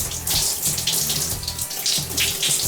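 Cold water pours steadily from a shower in a continuous loud, close hissing spray with slight surging fluctuations and no voices.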